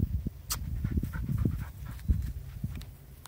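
A dog pants close up in quick, rhythmic breaths, with faint rustling and light movement sounds mixed in.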